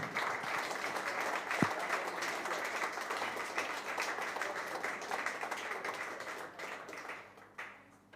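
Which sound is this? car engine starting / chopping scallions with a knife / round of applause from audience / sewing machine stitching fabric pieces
round of applause from audience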